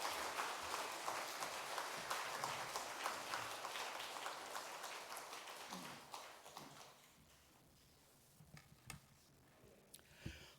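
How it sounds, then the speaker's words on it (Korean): Church congregation applauding during a Korean Sunday morning worship service: dense clapping for about six seconds, then it tapers off into a few scattered, fading claps. "박수로 한번 환영하도록 하겠습니다."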